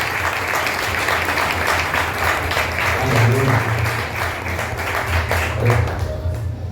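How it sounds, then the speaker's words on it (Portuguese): A church congregation claps together in praise at an anniversary service, a dense, steady wash of applause lasting several seconds, with a few faint voices and low tones underneath. "dá uma linda salva de palmas para o Senhor Jesus"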